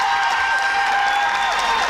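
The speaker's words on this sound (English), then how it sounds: "That shot got a standing ovation from the crowd." A crowd at an under-17 women's hockey match between Ireland and the Isle of Man applauds a shot, with a brief, dense burst of clapping and cheering.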